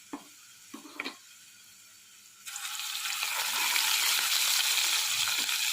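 A few soft utensil clinks, then green chili paste drops into hot oil for mango pickle on a switched-off stove and sets off a soft hiss that swells into a steady sizzle, close and fairly quiet.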